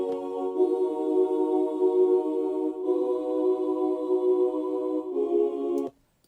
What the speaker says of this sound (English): this is a full choir old. It's from Omnisphere.